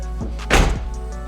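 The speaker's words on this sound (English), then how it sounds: "Close this door." A Toyota MR2 Spyder with a K24 turbo swap has its car door shut once, a single close solid thunk with a short rattle after it.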